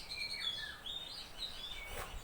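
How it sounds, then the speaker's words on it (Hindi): Small birds chirp outdoors, a scatter of faint, quick high tweets and short calls over quiet background noise. "सबसे पहले तो आप इन पंछियों की आवाज़ सुनिए।"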